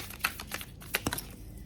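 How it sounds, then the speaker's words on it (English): Tarot cards shuffled side-on in a small apartment, producing quick light riffling clicks and soft flicks in short irregular bursts, close and quiet. "Apologies for side shuffling here, Sagittarius, small apartment, it is what it is."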